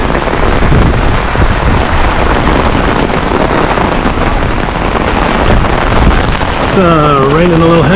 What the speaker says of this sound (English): It's raining a little heavy, so we're gonna go down to the underground.